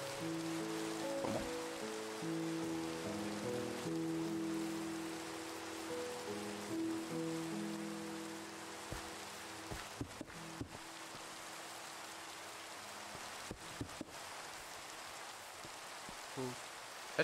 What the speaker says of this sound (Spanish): llueve a mares.